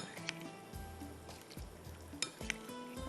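Fish being stirred and mixed with masala for a Madrasi curry, with soft scraping and a few sharp utensil clinks over a faint, steady sizzle, no talking.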